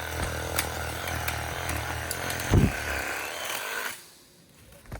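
A battery chainsaw drones steadily at close range with a brief louder burst midway, then cuts out near the end, leaving a quieter background.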